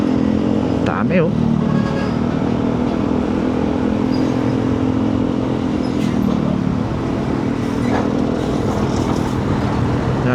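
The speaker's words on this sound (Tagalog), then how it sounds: "Ito, mga malalaking motor na yan." Steady roar of road traffic with large motorcycles passing along a new coastal road in Navotas, loud and close throughout. Someone speaks briefly over the engine noise.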